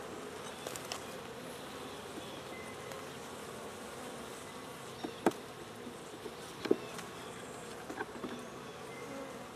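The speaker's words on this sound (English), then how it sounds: "Wow, where did all these bees come from?" Honey bees buzz around an opened hive from a new package, a steady, close, humming drone with a few sharper clicks and bumps of handling near the end, no talk.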